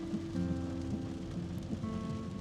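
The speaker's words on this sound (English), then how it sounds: "I want to show you how crazy the rain is." Heavy rain in Los Angeles pours steadily, a dense continuous hiss of drops hammering nearby surfaces with no voices.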